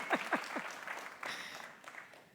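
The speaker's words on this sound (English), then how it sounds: "let's clap." An audience at an indigenous language imbizo in South Africa claps, a burst of applause that starts strong with a few sharp claps and then fades into a softer, scattered patter.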